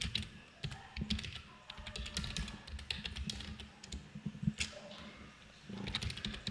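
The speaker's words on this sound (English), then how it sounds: "I'm typing the email" Typing an email on a computer keyboard: a quiet, steady stream of fast irregular key clicks and taps, close but soft, with no talking.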